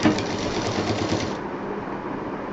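A sewing machine stitches piping onto a quilt case in a quick, even run of close mechanical clatter that stops partway through.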